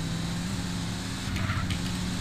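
Car engines in the video game GTA San Andreas hum as a steady, even motor drone with a faint passing swell near the middle, with no talking over it.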